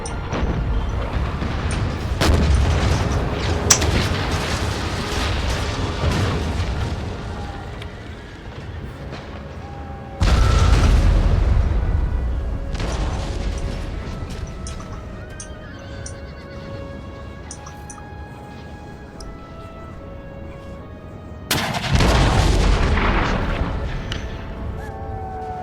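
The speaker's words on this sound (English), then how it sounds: "it looks like we did fire a cannonball in the general direction of some horses" Booming cannon fire in the game Empire: Total War, three heavy blasts spaced roughly ten seconds apart, each decaying slowly, with horse whinnies and battlefield noise in between.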